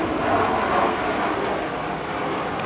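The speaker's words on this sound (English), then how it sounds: "Found some planes today. Sorry about that." Airplanes flying overhead give a broad, steady roar with a distant wash to it, moderately loud and continuous, with no talk over it.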